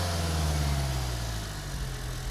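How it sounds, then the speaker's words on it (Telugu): Steady close idle of a 2023 Hyundai Creta SX(O) 1.5-litre inline four-cylinder diesel, an even low-pitched drone with a constant hum and no voices. "ఒక్కసారి ఈ వెహికల్ ఇంజన్ సౌండ్ వినండి."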